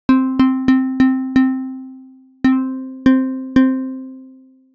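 Physically modelled string synth in Logic Pro Sculpture with its two pickups moved: a single pitched, bell-like plucked tone struck five times in quick succession, then after a pause three more spaced strikes, each ringing and decaying cleanly.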